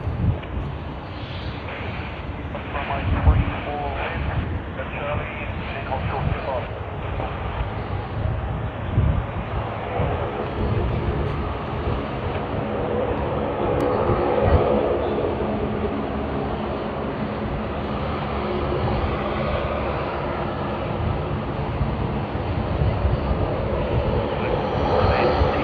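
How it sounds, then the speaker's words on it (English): An Air New Zealand airliner takes off from runway 34 right at Sydney Airport, a broad, loud jet roar that swells and rumbles steadily, heard from a distance without a break. "Air New Zealand will be taking off from runway 34 right."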